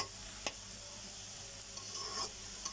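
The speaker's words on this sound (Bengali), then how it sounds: "চিংড়ি শুটকি দিয়ে পালং শাকটা ভাজা প্রায় হয়ে আসছে" Spinach fries with dried shrimp in a pan, a quiet close sizzle with a couple of soft stirring scrapes and a faint steady hiss.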